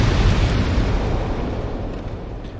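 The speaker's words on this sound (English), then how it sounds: "it's gonna have to work to blow up this wall" A bomb blows open a wall in Dark Souls II, a single loud, deep blast whose booming roar fills the whole moment and rumbles on steadily without decaying much.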